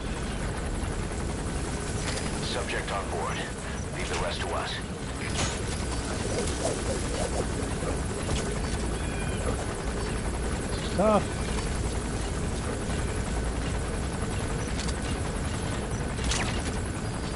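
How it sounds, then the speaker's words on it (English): A helicopter landing in the video game Metal Gear Solid V: a steady, broad rotor drone runs throughout under radio voices talking. "There's a chopper landing."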